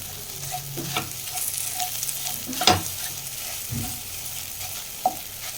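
Egg cooks in a hot pan for egg rice, with a steady soft sizzle and scattered scraping clicks as it is stirred. One sharper knock stands out near the middle.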